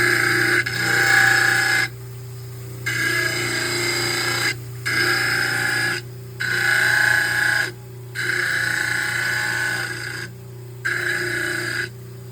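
A rotary dental tool trims the edges of a custom dual-laminate pressure-formed athletic mouthguard, running in steady whirring bursts of one to two seconds separated by short pauses, close and alone.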